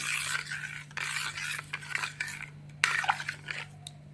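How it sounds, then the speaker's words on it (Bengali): A spoon stirs sugar into bael fruit sharbat in a bowl, giving repeated close scraping and clinking strokes in an uneven rhythm over a low steady hum, with no talking. "চিনিটাকে গুলিয়ে নেবো ভালো করে চামচের সাহায্যে"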